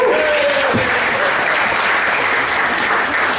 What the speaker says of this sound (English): Give a round of applause to Bar.